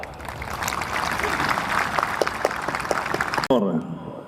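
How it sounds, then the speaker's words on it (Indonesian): A crowd applauds at an official police troop-readiness parade for Operation Mantab Brata Candi 2023-2024. The steady, sustained clapping has a voice over it and cuts off abruptly near the end. "Kita berikan aplaus untuk kita semua."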